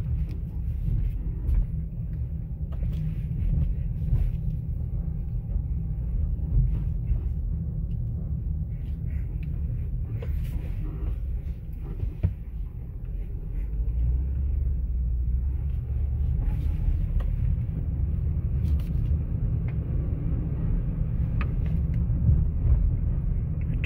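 Steady low rumble of a 2007 Honda Pilot 4WD driving, heard from inside the cabin as a continuous engine and road drone with faint wind noise, no talking.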